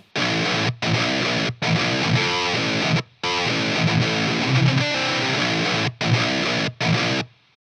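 Heavily compressed, distorted metal guitar through a Blackstar amp on channel 3, playing a loud, dense riff of chugging bursts broken by short stops, no voice.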